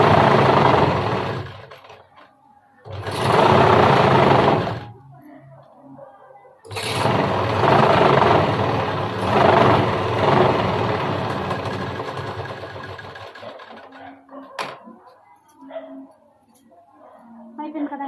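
A sewing machine stitches a lined blouse in bursts of steady whirring, several runs of a few seconds separated by pauses, with someone talking over and between them.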